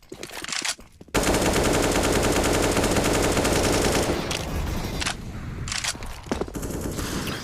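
Sustained automatic gunfire spam in the shooter CS:GO on the Cache map, a long dense burst of rapid loud shots followed by shorter scattered volleys.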